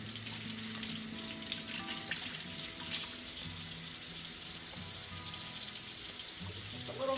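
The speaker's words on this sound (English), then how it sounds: "Now you can rinse it with some cold water" Cold tap water runs steadily over a batch of homemade butter being rinsed, a continuous splashing stream at close range with no talk.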